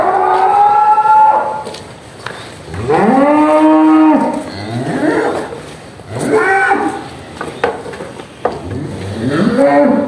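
Cattle bred for sale, around 600 kg in weight, moo repeatedly in long, loud, drawn-out calls, one after another with short gaps between them, close by and with no talk.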